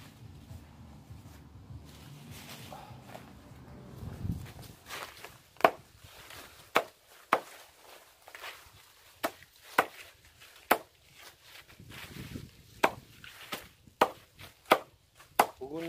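Pruned tree branches are chopped with sharp, evenly spaced blows, about a dozen distinct thwacks in the later part after a stretch of low rustling and handling noise.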